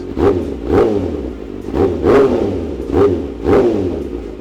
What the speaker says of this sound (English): while I have the engine running, and as I rev it